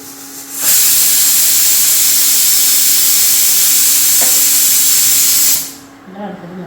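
Sukhiyan filling mixture boiling in a pan on the stove gives a loud, close, continuous hiss that holds steady for about five seconds and then cuts off abruptly.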